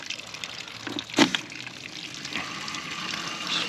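A garden hose flushes salt out of the cooling system of a 2022 Kawasaki Ultra 310 jet ski, giving a steady running-water hiss with a brief louder gush near the start.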